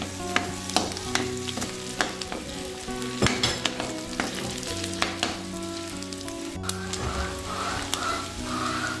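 Garlic sautéing in a pan beside meat, a steady crackling sizzle broken by repeated sharp spatula taps and scrapes, close and fairly loud, no voices.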